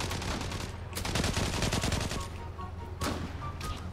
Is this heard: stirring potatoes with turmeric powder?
no